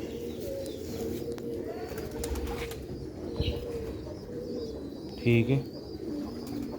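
Pigeons coo softly in a loft, with a brief burst of wing flapping near the end, all under steady background noise and someone speaking.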